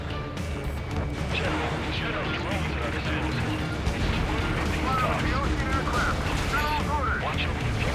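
Continuous gunfire and explosions rage through an Ace Combat 7 battle, dense crackling and booming bursts held at a steady loud level, with voices speaking over the fighting.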